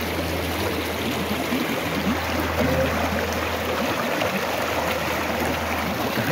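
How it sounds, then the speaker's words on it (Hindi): Water flowing steadily from a stream into Bhadkal Lake in Haryana, a constant close rushing wash with no talking. "यहाँ से पानी निकलता है भटकल झील में जाता है"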